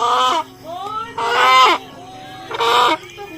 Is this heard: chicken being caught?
yes